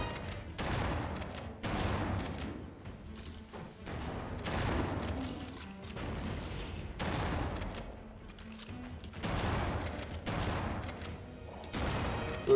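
Repeated heavy bursts of gunfire in Halo: CE Anniversary, including shotgun blasts, arriving in regular loud booms about every second or two, each with a short decaying tail.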